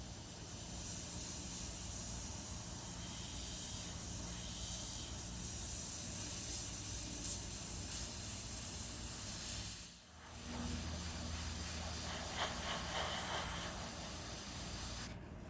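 A spray can hisses continuously while paint is applied up close to a small 3D printed fantasy medieval cottage model, a steady broadband spray with one brief break before it resumes.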